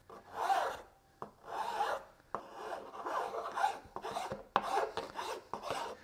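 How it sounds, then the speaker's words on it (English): A double cut file rasps along the wooden neck of a handmade ukulele in repeated close strokes, about eight scraping passes in an uneven back-and-forth rhythm, with no talk. "I'm using a double cut file. It's fairly aggressive"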